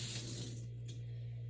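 Tap water runs steadily into a kitchen sink to rinse a spoon before mixing slime, a constant close hiss with no voices and a low hum beneath.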